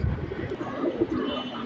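Large pigeons kept in a fancy-breed loft softly coo, a low murmuring call repeated close by over steady faint background noise.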